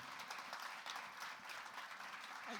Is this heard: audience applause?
yes